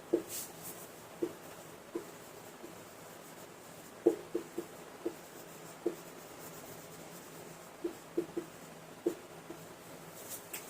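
Writing out an example on a classroom board makes quiet scratchy strokes and sharp little taps, scattered irregularly over a hushed room with no talking.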